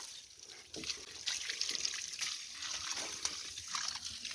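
Cold water is poured over a lamb suffering a seizure, a soft continuous splashing and trickling flow that swells slightly and carries on steadily, close by.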